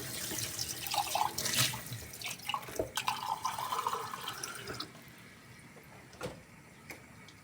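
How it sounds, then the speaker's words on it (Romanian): Cold water is poured into a cooking pot of boiled dumplings, a steady splashing pour that swells loud and close for several seconds before easing into fainter trickles and a few sharp knocks. "Mai pun un pic de apă rece și pun capacul ca ele să nu mai fiarbă"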